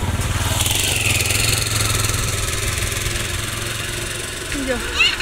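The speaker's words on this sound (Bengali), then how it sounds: "মোটরসাইকেল আসতেছে" A motorcycle approaches along a rural road lined with ducks, its steady mid-pitched engine drone close and loud. People talk nearby over the engine.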